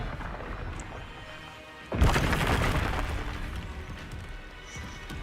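A Confringo explosion spell goes off in Hogwarts Legacy: quiet game ambience, then a sudden loud booming blast about two seconds in that rumbles on for several seconds.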